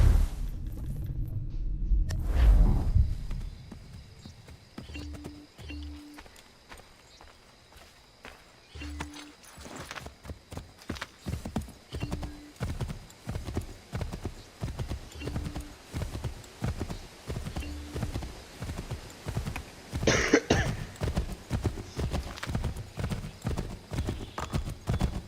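Rhythmic clip-clop of video game horse hooves at a steady trot, fairly close, running continuously for a long stretch after a low rumbling start, with a brief whinny-like tone.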